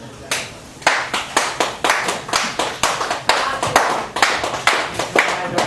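Hands clap in a steady, brisk rhythm at a poetry open mic in a Chicago cafe, each sharp crack following closely on the last for the whole stretch.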